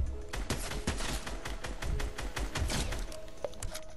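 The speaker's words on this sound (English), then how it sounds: "someone's shooting me now" Rapid bursts of gunfire from a Fortnite match crackle continuously, dense overlapping shots and thuds in quick irregular volleys throughout, loud and close with no talking.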